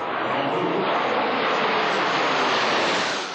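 Patrouille de France aerobatic jets performing at a military air show in Florennes, giving a steady, loud broadband roar of jet engines that holds evenly throughout with no voices.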